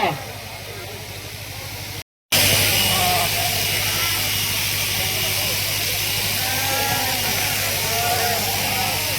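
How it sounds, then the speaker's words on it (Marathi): Sheep bleat over the loud, steady drone of an electric shearing machine at a communal sheep-shearing ceremony, with voices talking throughout. "मेंढी माऊलीची कातरण करत असताना मेंढीच्या पायाचे पोटाचे डोक्यावरील सर्व केस व्यवस्थितपणे मशीननं कातरून घ्या"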